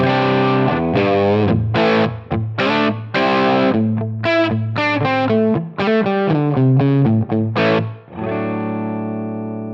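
An electric guitar through a Helix Brit Plexi Nrm amp model plays a quick melodic phrase with a slightly driven tone, a subtle room ambience lingering after the final held note.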